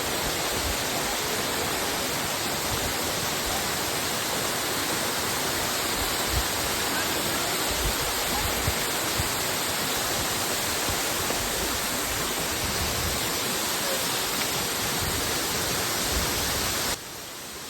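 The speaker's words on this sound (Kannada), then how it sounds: "ಸೊ ಗಾಯ್ಸ್, ನೀವು ನೋಡಿದ್ರಲ್ಲ, ಇಷ್ಟೇ ಜಾರಿ ಫಾಲ್ಸು." Jhari Falls in Chikkamagaluru, Karnataka, pours in a dense, unbroken roar of rushing water heard close up, steady and loud throughout with no voices.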